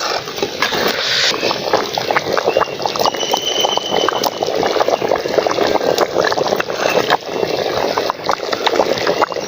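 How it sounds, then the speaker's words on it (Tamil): Country chicken gravy with ground coconut at a rolling boil in a village-style pot: dense, continuous bubbling and popping, close and fairly loud, with no talk. "நல்லா கொதிச்சிட்ருக்கு."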